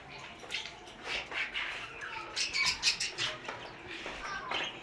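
Small birds in an aviary at a bird sanctuary chirp and tweet in short, scattered bursts over a soft background hiss, with occasional wing flutters. Nearby sounds stay quiet, and no voices are heard.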